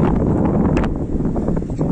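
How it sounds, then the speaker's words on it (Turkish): Steady wind blowing across the microphone at a campsite in Datça, Turkey, a dense low rumble that gusts and buffets continuously without pause. "rüzgar da artıyor"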